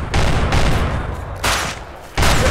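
Gunfire in the video game Rust: three loud, close bursts of rapid automatic shots, each lasting under a second to over a second, separated by brief quiet gaps.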